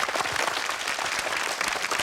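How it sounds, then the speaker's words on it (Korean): Studio audience on a Korean TV show applauding Marine Corps reservists, a dense, lively burst of clapping with distinct sharp hand claps throughout, steady and fairly close for two seconds. "최고의 고문관께 박수 한번 보내주십시오"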